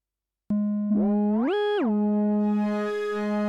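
Arturia MiniFreak synthesizer's harmonic engine oscillator sounding a single sustained, buzzy tone that slides up in pitch, holds briefly, then drops back to the starting note and continues steadily, loud and alone.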